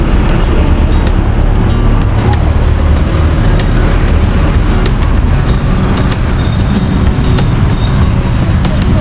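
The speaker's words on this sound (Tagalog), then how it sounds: "So medyo traffic na itong oras" Busy street traffic in a market district of Lucena on a Thursday, a steady dense roar of passing vehicles with scattered horn-like and engine tones, loud and continuous throughout with no clear speech.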